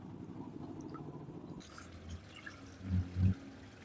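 Raw chicken for pickle is rinsed in a bowl of water, giving soft drips and trickles followed by two louder sloshing splashes close by near the end.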